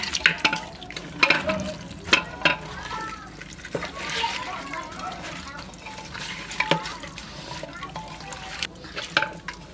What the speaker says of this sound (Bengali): মাংসটা আমি 2 মিনিটের মতন হাত দিয়ে এইভাবে একটু মেখে নেব।